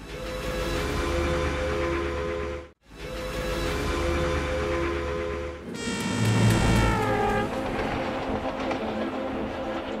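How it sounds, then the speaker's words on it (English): Retro passenger train rolling through Sweden, a steady loud rumble of wheels and carriage with a brief break, then a rising whine and squeal from the rails toward the end. "a slow scenic jaunt aboard a retro train which takes us through the heart of Sweden"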